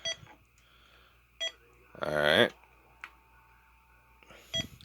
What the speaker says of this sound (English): There you got options of off and 5 different Roger beeps.